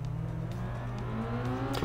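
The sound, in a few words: rally car engine sounds in Sebastien Loeb Rally Evo video game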